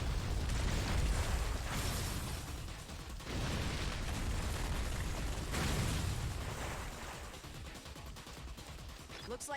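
Explosions boom repeatedly in the Ninja Gaiden video game, several loud blasts spaced a couple of seconds apart over a dense, noisy game soundtrack, with a voice talking over it.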